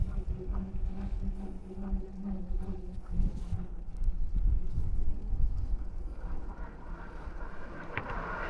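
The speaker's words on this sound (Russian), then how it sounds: "Лошадки." Horses on a rural Yakutsk to Magadan route make faint, steady hoof clip-clops under wind and outdoor rumble, heard from a moving bicycle.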